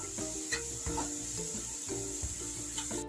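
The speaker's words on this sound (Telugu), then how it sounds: "ఒకసారి ఫ్రై చేయండి." Ponganalu batter tempering fries in a pan with a steady, close sizzle, broken by regular scraping strokes of a spoon stirring the mixture, with no voices.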